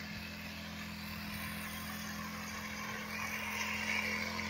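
A small, lightweight tractor plows a waterlogged, muddy paddy field in Konkan, giving a steady low engine drone that holds throughout and swells slightly near the end, heard from a moderate distance.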